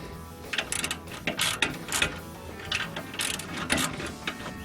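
Ratchet tightening the nut on the bottom shock mount of a Nissan Hardbody pickup: close, steady rapid clicking in short back-and-forth strokes, moderately loud, with no talk.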